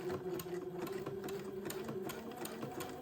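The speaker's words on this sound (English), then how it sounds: "And then I'm going to slowly start sewing" A sewing machine stitches the front facing onto a lace-trimmed gown at a slow, steady pace, its needle ticking in an even rhythm at close range with a low motor hum beneath.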